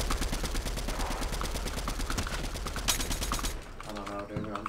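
Rapid automatic gunfire in the video game Fortnite, a dense regular burst of shots for several seconds, then quieter scattered sounds with faint voice chat beneath.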